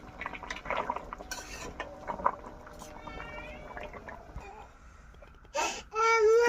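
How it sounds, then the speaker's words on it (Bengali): Fish and potato curry with chopped coriander leaves being stirred in a pot: a few light clinks and scrapes of a utensil against the metal, with faint voices in the background and some brief higher-pitched sounds near the end. "এখন দিয়ে দিতেছি কেটে রাখা ধনিয়া পাতাগুলো, অল্প নাড়াচাড়া দিয়ে দিতেছি।"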